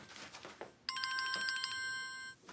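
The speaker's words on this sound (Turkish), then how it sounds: "telefonun çalıyor, nerede yavrum telefonun?" A telephone rings in a home in the morning, an electronic ringtone trilling steadily for over a second after faint background sounds, clear and fairly close.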